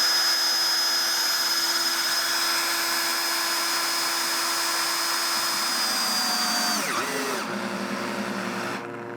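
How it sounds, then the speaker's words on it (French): Power drill driving screw-in insulation anchors into small insulation panels, a loud steady whine running for several seconds, then slowing and winding down near the end as the anchor seats. "Donc je vais cheviller mes deux panneaux"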